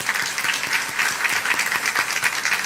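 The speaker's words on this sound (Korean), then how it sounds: "박수하시겠습니다." A church congregation applauds together in a dense, steady wash of clapping that carries evenly throughout, with no voices over it.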